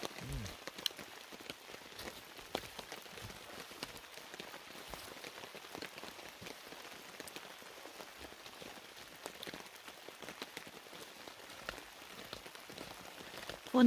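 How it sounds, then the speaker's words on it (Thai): Steady rain patters on a surface, with scattered individual drops tapping irregularly over a soft, continuous hiss. "ฝนก็เริ่มตกมาอีก"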